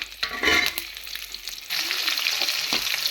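Onion and garlic sizzle in hot oil with dried chillies while being stirred, a steady close frying hiss with soft scraping that grows brighter and fuller partway through.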